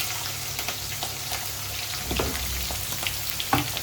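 Onion and green chilies fry in hot oil with curry leaves and cumin for a brinjal, cucumber and dry fish curry, giving a steady close sizzle with occasional stirring scrapes and pops, no talking.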